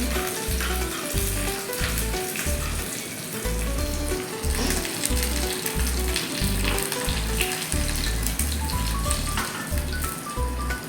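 Loud, crackling sizzle of spices and chilies frying in hot oil for a tempering, steady throughout with spattering pops and a low rhythmic thumping underneath.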